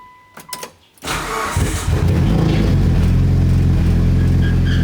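A fully built Mitsubishi Evo 9 engine fires up for its first start: brief starter cranking, then it catches into a loud, steady, close idle with a rough low rumble.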